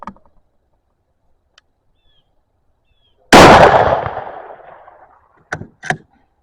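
A single sharp Ruger American Go Wild .243 rifle shot at an outdoor range, loud and close, with a long decaying echo; faint clicks and small knocks come before and after.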